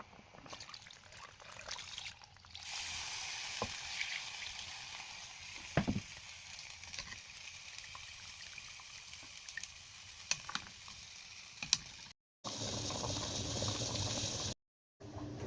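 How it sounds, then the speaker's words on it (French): Filtered palm nut juice poured into a sauce already simmering on the fire makes a soft, continuous liquid sizzle and bubbling, quiet and close, with a few brief clinks and short gaps. "Je vais aussi rajouter le jus sur la sauce qui est déjà au feu en le filtrant bien sûr."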